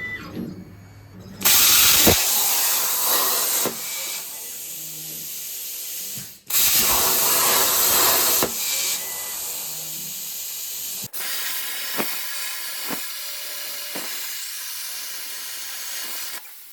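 A power tool cuts through a 3/16 inch steel sheet to make brackets for a mini Jeep project, giving loud harsh grinding hiss in long bursts that stop and restart, with whining tones as the cut slows.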